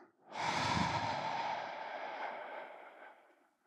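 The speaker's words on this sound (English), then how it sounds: "start by blowing all of the air out of your lungs as far as you can go" A single deep breath is drawn in and let out slowly during a guided breathing exercise, a close, soft airy rush that swells quickly and fades over a few seconds.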